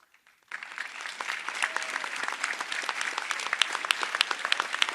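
After a brief quiet moment, an audience at a fire rescue academy graduation ceremony for DeKalb County Class 117 bursts into sustained, dense applause that grows steadily louder.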